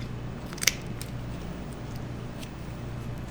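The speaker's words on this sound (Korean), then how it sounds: "이쪽에 가위가 좀 필요하더라고요." Kitchen scissors snip through a raw chicken wing during butchering, giving one sharp close crunching cut followed by a few faint clicks over a low steady hum.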